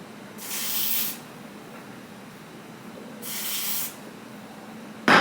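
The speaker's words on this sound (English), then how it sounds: "we are going to use lace spray to install this wig" Two steady hissing bursts of lace spray from an aerosol can, used to install a lace front wig, each about a second long, separated by a quiet pause, with a short sharp sound at the end.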